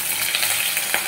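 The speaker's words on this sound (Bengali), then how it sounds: "প্রথমে আমি কয়েক টুকরো পেঁয়াজ কুচি দিচ্ছি আর কিছু পরিমাণ কাঁচা লঙ্কা কুচি" Chopped onion and green chilli fry in hot oil, giving a dense, close, continuous sizzle with light stirring scrapes, heard alone.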